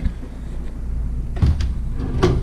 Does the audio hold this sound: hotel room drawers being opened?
yes